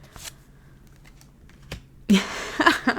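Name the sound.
shuffling a deck of tarot cards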